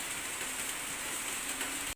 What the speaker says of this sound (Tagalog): humina na po yung ulan pero makulimlim pa rin